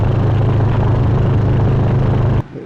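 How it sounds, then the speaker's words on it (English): A Royal Enfield Classic 350 motorcycle with a Hitchcock's free-flowing exhaust runs out on a road. Its engine gives a steady, loud, low thumping drone close by, which cuts off sharply just before the end. "we're out for a wee test run on the bike to see how well it performs with the Hitchcock's free-flowing exhaust system"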